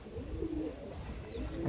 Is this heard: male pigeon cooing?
yes